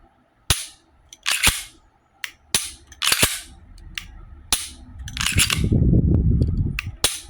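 A firearm function check with dry-fire: a series of sharp, loud mechanical clicks and snaps at irregular intervals, about a dozen in all, close to the mic, with a low rumbling handling noise toward the end.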